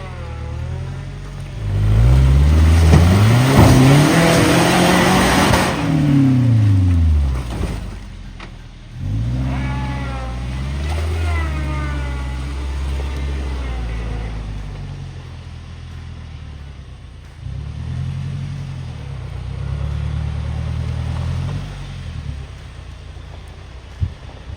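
A 4x4 truck with a 14-bolt axle and ARB air locker revs hard over slippery, rough terrain, its engine loudly climbing and falling in pitch, then settling into a steady, rumbling idle-to-mid drone.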